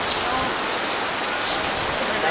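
Heavy rain pouring steadily at an inland agro-farm resort in Tagum, Davao del Norte, Philippines, a dense even hiss of falling water on surfaces, close and continuous.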